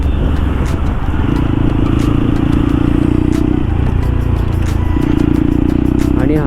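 A motorbike ridden along a canal road on a casual weekend trip, its engine droning steadily and close with wind rumble, the tone shifting as the speed changes; no one talks.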